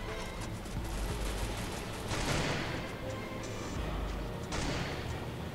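Gunfire in the Free Fire video game, dense bursts of shots with heavy thuds and impacts, loud and continuous with several sharp surges, no talk over it.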